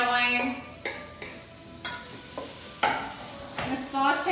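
Onions sauté in a pan with a soft steady sizzle, broken by several sharp stirring scrapes and clinks, while an exhaust fan hums in the background.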